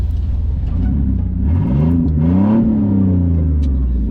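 A Chevy Blazer engine with its catalytic converter missing and the exhaust hacked off with a hacksaw revs up in a raspy, rising blip and settles back, loud and close with a continuous rumble underneath.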